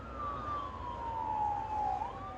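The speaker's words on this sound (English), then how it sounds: "here comes an ambulance" An ambulance siren passing on a street, a single wailing tone sliding slowly downward as it goes by, moderately distant and fairly faint, with no talking over it.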